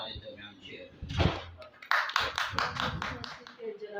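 Brief scattered clapping from an audience welcoming a speaker at a Christian prayer gathering, moderately loud with talk around it.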